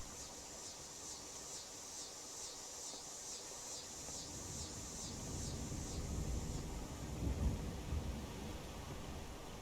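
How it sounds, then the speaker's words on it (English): Distant thunder rumbles low and deep in the game Skyrim at dusk near a village, rolling in a long swell that builds toward the end, with a steady rain-like hiss and a pulsing high ambient tone above. "Again, it sounds thunder in the distance."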